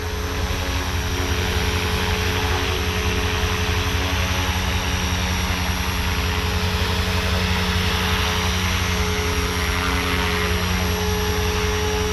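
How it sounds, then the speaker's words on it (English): A Blade 500 3D radio-controlled helicopter flies nearby in stunt mode with a constant, loud high-pitched whine and steady rotor buzz, unbroken throughout. "I love the sound of this helicopter."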